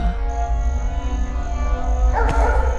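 A dog barks and yips while chasing someone through the night, steady and fairly loud against a constant low rumble, with howling, whimpering tones throughout and a sharper burst near the end.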